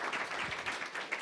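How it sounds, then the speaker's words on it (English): Audience applause for two presenters at a SpaceX and NASA briefing, a soft, steady patter of clapping heard from across the room, fairly quiet and even throughout. "let's give a nice round of applause for Professor Li Yao and Dr."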